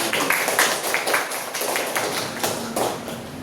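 Scattered applause from a classroom of students, a few loose, uneven bursts of hand claps and taps at moderate loudness, with no one speaking over it.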